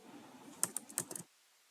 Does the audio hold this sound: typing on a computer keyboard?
yes